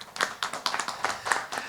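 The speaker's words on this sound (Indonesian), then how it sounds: "Kita berikan tepuk tangan buat Bu Leni." Sparse hand clapping from a small audience for a speaker at a seminar, a few quick irregular claps, fairly faint and close.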